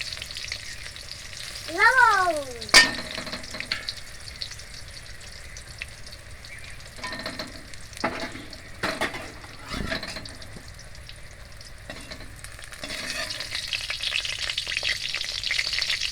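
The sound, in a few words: pointed gourd (potol) frying in oil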